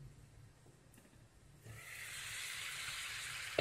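Boiled broad beans sizzling in hot oil, a steady loud hiss that bursts in abruptly partway through and keeps frying evenly, with a faint low hum underneath before it.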